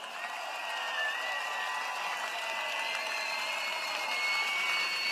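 A political rally crowd applauds steadily for proud parents, a dense continuous wash of clapping heard from a distance with no voices on top.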